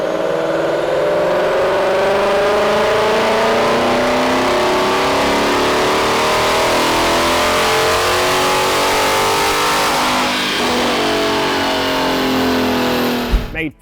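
A 2022 Ford Mustang GT with its Gen 3 Coyote engine and the carbon trap removed, pulling on a dyno: one loud continuous full-throttle run, the engine note climbing steadily through the revs before cutting off abruptly at the end.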